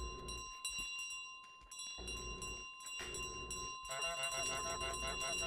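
A small bell carried by the goose in Untitled Goose Game rings and jingles steadily under continuous in-game background music.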